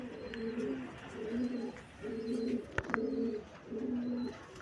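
Topi pigeons coo softly in a steady repeating rhythm of low rolling calls, about five phrases in a row, fairly quiet and close. A brief click interrupts near the middle, and no one speaks.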